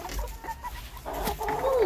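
Chickens cluck inside a coop where eggs are being gathered, a run of close, busy clucks and short calls rising toward the end.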